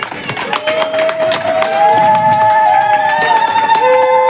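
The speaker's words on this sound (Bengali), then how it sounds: "একটু হাততালি দিয়ে, সবাই করতালি দিয়ে" Audience clapping during an inauguration ceremony at a Bardhaman puja pandal: dense, steady applause that builds and holds throughout, with a sustained wavering tone ringing over it.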